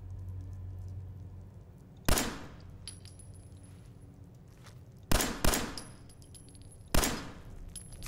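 Gunfire in Fallout 4, four sharp, loud shots standing out against a low droning background, one single, then a quick pair, then one more, with metallic ringing tails.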